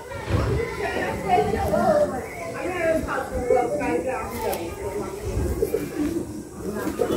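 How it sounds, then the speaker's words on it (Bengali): Madrasi pigeons in a loft in India coo in low, throaty repeated phrases, close by, while voices talk over and between the calls. "খুবই সুন্দর কোয়ালিটির পায়রা।"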